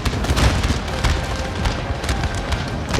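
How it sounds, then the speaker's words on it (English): Artillery and musket fire in Napoleon: Total War, with dense, continuous volleys and booming cannon shots layered into a loud, relentless battlefield roar. "Artillery fire and musket fire cleaving their numbers."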